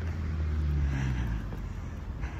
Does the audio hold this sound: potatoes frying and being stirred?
no